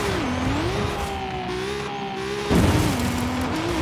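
An off-road car fitted with rally springs in Forza Horizon 5 drives with its engine droning as the tone rises and dips, and a squeaky suspension noise sounds over it, with a thump partway through.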